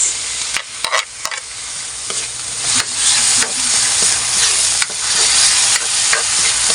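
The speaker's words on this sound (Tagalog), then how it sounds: "Halo-haluin lang hanggang sa medyo na parang bang lumambot siya yung kamatis natin." Chopped tomatoes hiss and sizzle loudly in a hot pan while being stirred for squid adobo, a dense steady frying noise broken by scraping clicks of the spoon and no talk.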